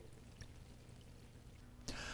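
Water from a hose pours over a car body in a continuous, fairly quiet gushing wash, with a sharper splash near the end.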